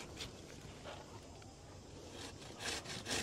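Hand saw cutting through an apricot blossom tree trunk, with steady scraping strokes that swell louder toward the end, close up and without speech.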